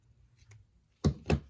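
Two quick, crisp snips of scissors trimming paper for a decoupage craft, close and distinct after a short quiet pause.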